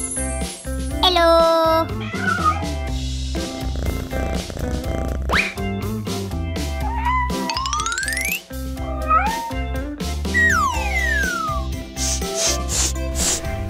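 A cat meows repeatedly in short rising and falling calls, close and clear, mixed with tinkling jingles and a voice.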